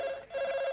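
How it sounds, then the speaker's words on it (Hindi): A landline telephone rings in a domestic TV-drama scene, a steady electronic trill held at close range with a brief dip midway before resuming, with no voices over it. "अरे आता फोन तो उठा लेने दीजिए।"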